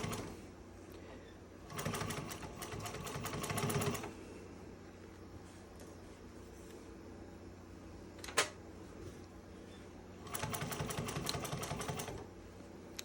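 A Juki 1541S sewing machine fitted with a leather needle stitches a pocket onto a lining in two bursts of rapid, steady needle clatter, the first near 2–4 s and the second near 10–13 s, with a quiet pause and a single sharp click between them.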